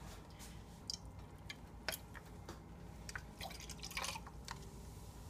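Spring water being poured into garbanzo bean flour batter, faint close trickling and soft wet drips with small squishy splashes, quiet and irregular with no voices.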